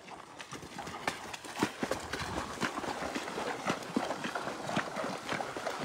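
Horses ride along a river in the afternoon, hooves clip-clopping in a loose, continuous rhythm of close, fairly soft footfalls with no voices.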